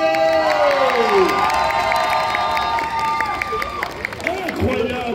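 Audience at a cosplay contest selection round for the French Cosplay Cup at a convention cheers and applauds loudly and continuously, with crowd shouts and whoops rising through a busy hall.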